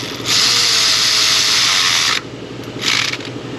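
A power tool whirs loudly for about two seconds as it drives down a bolt holding an evap solenoid bracket to the valve cover of a Toyota Highlander 3.5 V6, then gives a second short burst.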